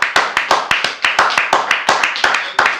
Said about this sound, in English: I give a round of applause to Mr.